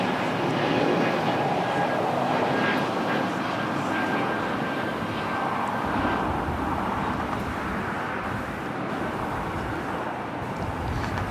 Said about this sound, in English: Breeze Airways Flight 707. Heading to Jacksonville, Florida, and then Airbus A220-300.